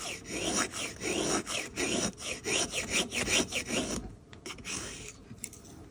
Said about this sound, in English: you can literally use it to get like little bitty shavings of stuff to ignite.